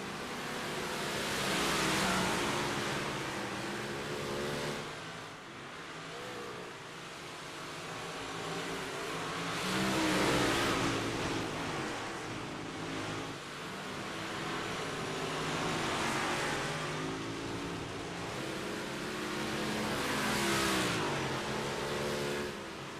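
Race cars in iRacing practice on an oval speedway, where engines drone steadily and swell and fade in repeated passes, forming a continuous roaring wash of engine noise with no talk.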